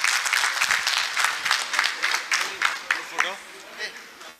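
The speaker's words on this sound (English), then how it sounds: "so a big round of applause to Neil, please" A room full of people at a school reunion claps loudly and steadily, the applause thinning toward the end, with some voices mixed in beneath it.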